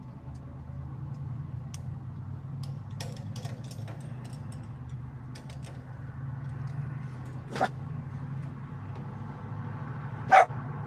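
A dog barks a couple of times, sharp and fairly distant, against a constant low rumble of engine noise.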